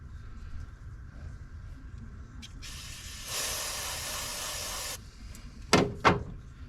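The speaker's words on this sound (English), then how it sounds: "I'm going to give her another little spray on this rag here." A sustained hissing spray of cleaner onto a rag lasts about two seconds, followed by a couple of short, sharp spritzes, all close by and otherwise quiet.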